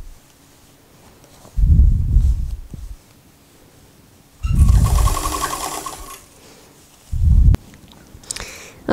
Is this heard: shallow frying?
no